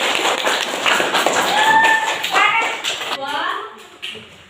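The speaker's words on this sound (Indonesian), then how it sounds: "Tepuk tangan dong yang udah ngasih" A primary-school class applauds a classmate, a busy scatter of clapping hands mixed with children's voices and chatter, tapering off toward the end.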